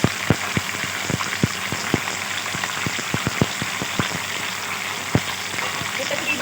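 About 1.25 kg of chicken fries in a pan for a restaurant-style almond chicken gravy, giving irregular crackling pops over a soft steady hiss, with a voice speaking at times.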